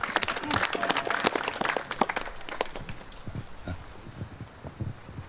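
Applause from mourners at a Korean memorial service greeting a singer, individual sharp claps at first, then thinning into scattered, fading claps in the second half.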